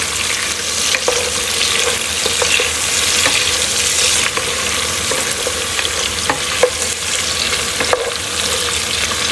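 Kalabasa squash and okra sauté with chicken and coconut milk in a pan, a constant close sizzle broken by repeated scrapes and clacks of a stirring utensil, with no voices.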